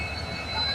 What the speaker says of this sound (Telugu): ట్రైన్ అయితే వచ్చేసింది